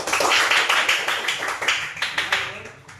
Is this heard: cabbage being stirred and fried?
no